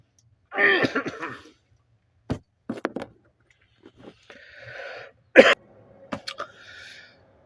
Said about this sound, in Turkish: Böyle bir öksürük geldi üst üste.